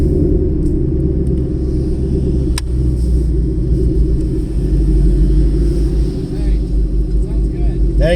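A 2018 Ford Mustang GT with a free-flowing Borla S-Type exhaust gives a deep, loud, steady rumble at close range the whole time, with no revving.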